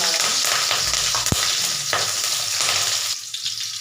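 Whole cinnamon and cloves frying in hot oil in a pan as the base for a chicken masala, a steady close sizzle with stirring scrapes and one sharp clink of a spoon against the pan, with no talk.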